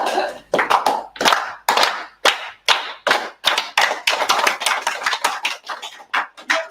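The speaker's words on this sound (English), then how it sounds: "Thank you guys for the applause" Lively audience applause from a small group of people at a gathering, a loud burst of uneven, closely spaced claps that rises and falls in waves for several seconds with no speech over it.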